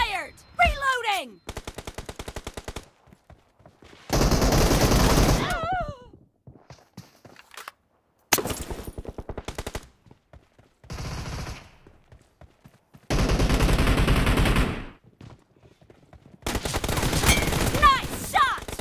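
Gunfire in a team deathmatch video game comes in several loud automatic bursts, rapid and close, between short pauses, with game voice callouts and effects in the gaps.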